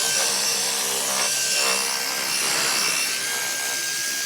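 A rotary polisher buffs a headlight lens on its second speed setting, giving a steady, loud whirring and rubbing drone with a slight shift partway through, no speech.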